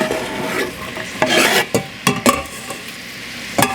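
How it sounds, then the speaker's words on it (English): Onion and garlic frying in oil for vegan molokhia, a loud close sizzle broken by sharp spoon strokes against the pan, scattered irregularly over a few seconds, with no voices. "Now we're just gonna add the onion and the garlic."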